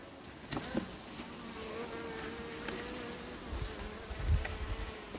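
Honeybees humming steadily around an open hive while a swarm is added to it, a soft continuous drone with individual bees buzzing past up close, plus faint handling thumps near the end.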